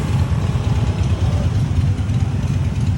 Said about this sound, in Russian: Типичная пробка на Бали.